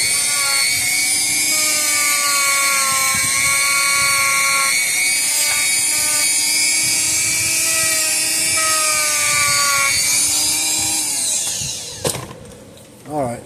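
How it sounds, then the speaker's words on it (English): A Dremel rotary tool spins a wire brush against a corroded Speedrite 120 electric fence energizer, a loud high-pitched whine holding steady with slight pitch shifts before winding down near the end. "Take a Dremel tool and we'll just get our wire brush on this and clean off all this corrosion"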